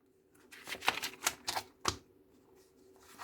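Pages of an Avon cosmetics catalogue are flipped quickly, giving a run of about half a dozen close, crisp paper swishes in quick succession, then a quieter lull and one last rustle.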